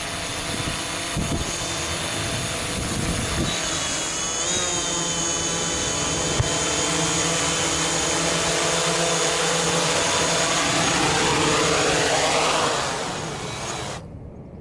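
A DJI Mavic Pro drone fitted with CamKix replacement propellers auto landing, a loud steady high-pitched whine of motors and props heard close, its pitch shifting as it descends, then cutting off abruptly near the end.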